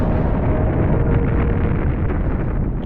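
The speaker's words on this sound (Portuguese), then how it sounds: "é o Big Bang, a grande explosão." A deep, roaring explosion representing the Big Bang rumbles loudly and continuously for about three seconds, dense and sustained with no pause.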